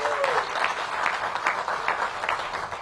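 An audience claps at a ribbon-cutting for a new government headquarters, producing a moderate, continuous patter with a few louder swells and a faint voice underneath.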